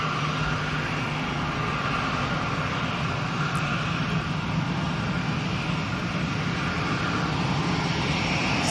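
An EasyJet airliner departs Manchester Airport for Santorini, its jet engines a loud, steady broadband roar that holds throughout with no voices.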